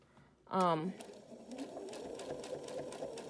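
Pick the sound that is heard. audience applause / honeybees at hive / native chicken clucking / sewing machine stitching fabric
sewing machine stitching fabric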